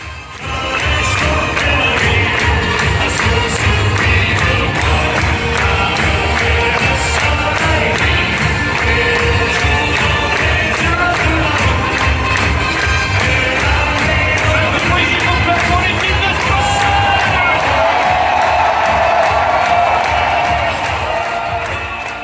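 A large home crowd cheers loudly at a France women's Olympic match in Paris, a dense, steady roar of voices with whoops and clapping that carries on unbroken for the whole stretch.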